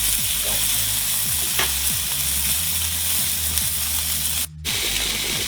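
Sausages sizzle steadily in a frying pan over moderate heat, a continuous crackling fry with faint scraping and turning sounds mixed in, briefly cut by a short gap near the end before the sizzle resumes.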